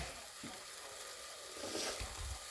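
A dark roux for turkey gravy sizzles steadily in a pan, a close, continuous hiss and crackle with faint stirring scrapes and no talking.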